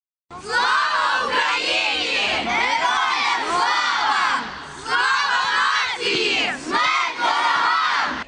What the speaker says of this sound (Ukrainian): Такими патріотичними вигуками юні вболівальники підтримують свої команди перед змаганнями